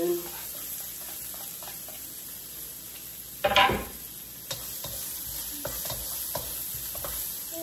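Chopped onion sizzles in a hot pan while being stirred, a constant frying hiss with one louder scraping burst partway through and lighter stirring clicks after it.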